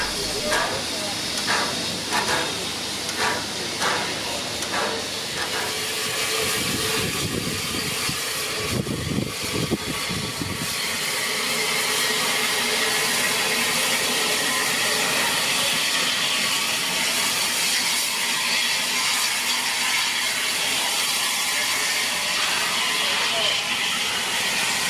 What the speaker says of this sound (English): The red flashing lamp is a modern rear light, indicating that the train is about to reverse out of the station.